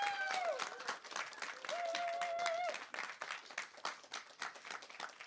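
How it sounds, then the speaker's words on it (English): An audience applauds poets at a poetry event in Te Whanganui-a-Tara, sustained clapping from a crowd that rises and thins, with a voice briefly calling out over it. "we should have a big round of applause for our amazing"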